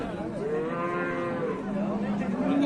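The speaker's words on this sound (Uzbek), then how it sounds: "Bolasini ovoz ekan." A calf of a Swedish-breed cow moos in a long, close, drawn-out call with a sliding harmonic pitch at a livestock sale, loud and clear over faint background noise.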